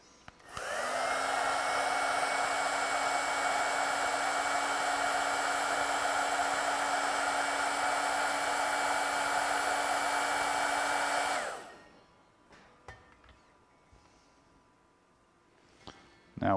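Heat gun warming a soldered joint during repair of a Sansui G-9000 stereo receiver, a loud steady blowing whoosh held for about eleven seconds before cutting off, followed by faint clicks and handling.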